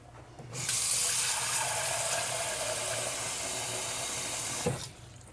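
Water pours steadily from a tap or container into a pot while cooking Jamaican dunkunu (blue draws), a continuous close splashing stream from start to end, then stopping abruptly, with no talking.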